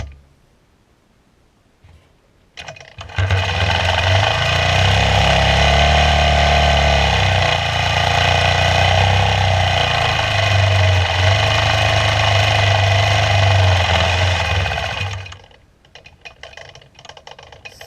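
Sewing machine free-motion quilting a freehand feather spine on a quilt top, starting after a quiet lead-in, running at a steady fast whirr for about twelve seconds with a low motor hum, then stopping abruptly.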